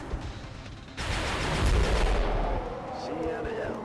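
Gunfire and heavy weapon blasts from the turn-based strategy game XCOM: Enemy Unknown, a loud sustained barrage of shots and booms rising after the first second and fading slightly toward the end.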